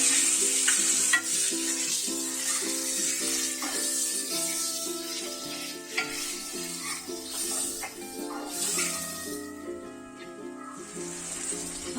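Tomatoes frying with browned onion for misal, a continuous close sizzle with stirring scrapes, partly under a steady tonal background sound.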